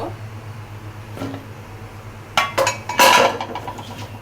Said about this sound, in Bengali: এখন আমি এখানে কচুরলতিটা দিব